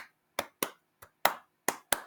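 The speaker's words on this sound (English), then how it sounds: "If you're just clapping along like you're doing like horse like coconuts" Bare hands clap out a rhythm in seven sharp, close claps with uneven gaps between them, with no other sound.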